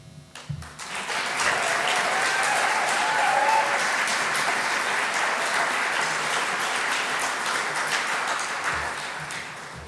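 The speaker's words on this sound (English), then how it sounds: "That was excellent cheering." An audience at the 2022 Canberra region Volunteering Awards breaks into full applause for the team nominees, steady dense clapping with a few cheers and whistles, fading slightly toward the end.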